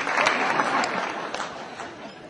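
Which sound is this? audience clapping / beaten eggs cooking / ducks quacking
audience clapping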